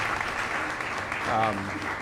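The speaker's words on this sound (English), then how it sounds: "a round of applause for that." Brief applause from a panel audience at a real estate event in Chicago, moderately loud and overlapped by a voice speaking.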